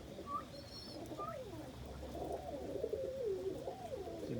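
A young almond homer pigeon coos indoors in soft, low, rolling calls, one long warbling coo swelling in the middle, with faint higher chirps from other birds nearby.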